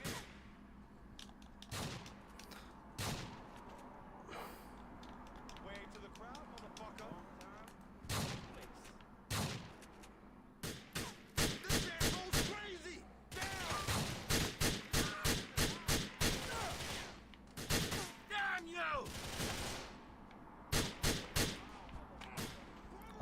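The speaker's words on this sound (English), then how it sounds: "I seem to have more joy shooting him than you." Video game gunfire from Grand Theft Auto IV: scattered single shots at first, then dense rapid volleys and bursts in the second half, loud and close over a steady background bed, with a voice talking in places.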